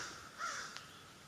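A crow caws once outdoors, a brief harsh call at moderate distance, faint and alone with no other sounds around it.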